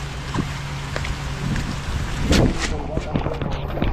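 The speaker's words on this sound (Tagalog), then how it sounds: "Yung malakas talagang ulan, oh." Heavy rain pours in a steady, dense hiss close by, with occasional louder splashes and thumps, while a person speaks over it.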